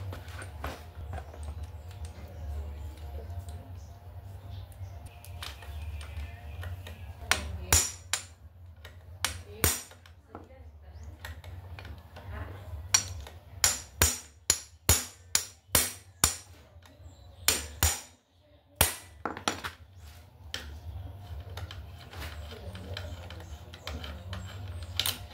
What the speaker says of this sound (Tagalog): Impact wrench, manual na impact wrench.